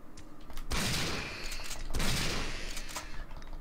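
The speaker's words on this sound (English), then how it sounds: "Glad I brought a shotgun." Gunfire in Resident Evil 3 Nemesis, loud dense blasts from a shotgun, two heavy bursts about a second apart with rumbling tails, alone with no talk.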